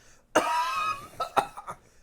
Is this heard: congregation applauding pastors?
no